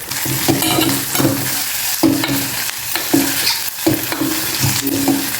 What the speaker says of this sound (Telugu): ఇలా కొంచెం వేగిన తర్వాత కట్ చేసి పెట్టుకుని క్యారెట్ ముక్కలు కూడా వేసేయండి